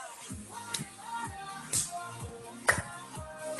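Children in a hip hop dance class stepping, jumping and clapping: light shuffles and taps with a few sharp claps spaced about a second apart, over quiet background music.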